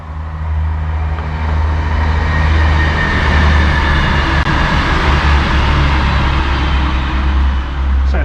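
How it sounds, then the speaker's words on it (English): A 6-car passenger train rumbles past, its steady, loud, broadband roar holding throughout with a deep low-end drone, heard from close by. "There's a train coming."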